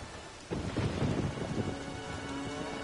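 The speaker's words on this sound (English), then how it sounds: "Something's got to be done. About the storm." Thunderstorm in The Witcher 3: Wild Hunt, with a deep rolling thunder rumble breaking in over steady rain and wind, loud and sustained before settling into the continuing downpour.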